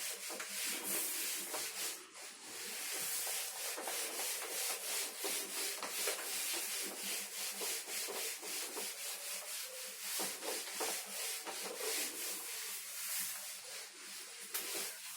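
A classroom board is wiped clean with a continuous, brisk rubbing swish during a physics lesson. The scrubbing is steady and close, with no talking over it.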